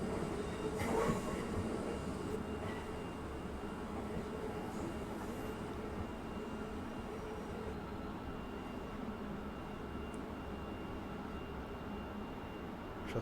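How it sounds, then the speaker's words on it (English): Commuter train in the Train Sim World 5 video game near Manchester Airport, a steady rumbling rolling noise with faint wheel squeal, continuous and moderately near, no talk. "That's because there's a train in the way."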